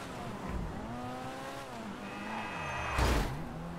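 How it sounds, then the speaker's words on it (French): Video game motorcycle engine revving and droning up and down in pitch, with a sudden louder burst near the end, heard alone without talk. "J'ai pogné un moto en fin de compte."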